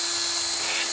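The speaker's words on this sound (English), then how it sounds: "I got some mechanics wire, I put it on a drill" A drill spins a length of mechanics wire that is being worked through a passage on a Toyota Prius with a P0301 misfire, making a loud, steady, high-pitched whine with no break and no talk.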